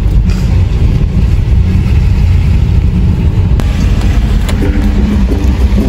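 Engine hum of many cars crowding a festival parking area at the Aurora Music Fest, a steady loud rumble of idling and slowly moving vehicles throughout, with a brief sharper noise partway through.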